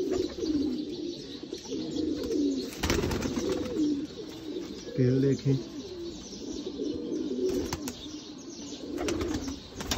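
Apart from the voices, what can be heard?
Sialkoti pearl-spotted pigeons cooing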